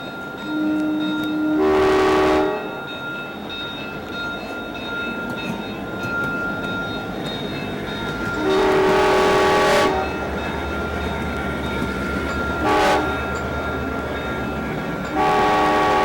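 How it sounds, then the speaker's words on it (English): A model train circles a layout with grass scenery, a steady rolling rumble throughout broken by several blasts of its horn, each lasting a second or so, loud and close. "I'm going to run the train around, see what it looks like from the train's eye view."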